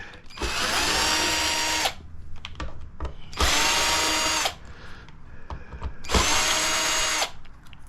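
Power drill backing screws out of an H-Calory diesel heater, three separate whirring bursts of a couple of seconds each with brief pauses between, close and loud.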